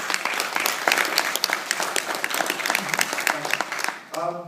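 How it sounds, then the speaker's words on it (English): Steady clapping from a conference audience at a speaker session fills several seconds, then fades as a voice begins speaking. "A round of applause."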